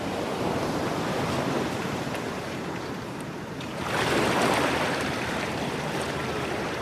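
Ocean waves at sea wash in a steady broadband roar with wind, swelling to a louder surge midway, continuous and close with no voices.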